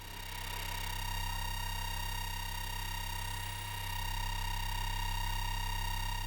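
A WWII German night-fighter Luftwaffe radar display, fed by a test signal generator and picked up through a radio microphone receiver, gives off a steady, faint electronic hum of layered pure tones that holds unchanged throughout.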